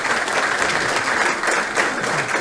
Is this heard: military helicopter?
no